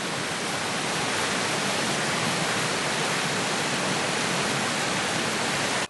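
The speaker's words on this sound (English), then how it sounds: "the waterfall goes under the path, and as you can see, drops down below us, through the stone wall, into the field below and onto the river" A Lake District waterfall on Grisedale Beck plunges beneath a footpath and drops through a stone wall into a field and river below, making a loud, steady, close rushing roar with no talk.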